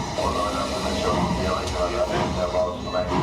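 A train travelling through France toward Paris rumbles steadily in a loud, continuous wash of rolling noise, with a person talking over it.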